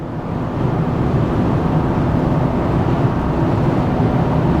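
A 2023 Chevy Silverado Trail Boss with the 2.7L turbo engine accelerates toward 80 mph on the highway, a loud, steady cabin drone of road and engine noise with no breaks.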